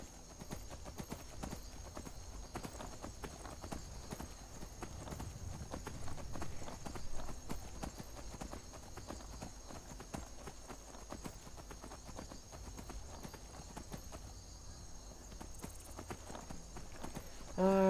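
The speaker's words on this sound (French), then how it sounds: "Ah, j'aime bien les voyages en cheval." Horse hooves clip-clop steadily while riding in the video game Skyrim, a continuous rhythmic plodding under faint background sound, with someone speaking briefly.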